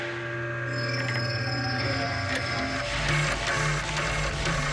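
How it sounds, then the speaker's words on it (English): A gas analysis machine processes an injected gas sample, making a steady mechanical whir with faint ticking and clicking at moderate loudness, with no talking. "connect the sample here and inject the gas into the machine"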